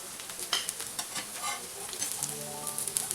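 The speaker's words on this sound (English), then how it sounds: "So we are done with all our tikki frying." Oil sizzles and crackles steadily in a pan of frying potato patties (tikki), with occasional scraping and stirring sounds close by.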